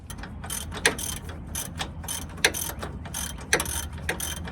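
A ratchet clicks in short bursts of quick pawl ticks while tightening suspension bolts on a 2001 Ford F150, close and fairly loud, with sharper metallic knocks between strokes.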